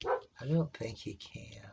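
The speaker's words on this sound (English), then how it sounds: "Sorry about the puppy dogs barking." Puppy dogs barking in short, sharp yips and a brief whimpering bark close by, mixed in with someone talking over them.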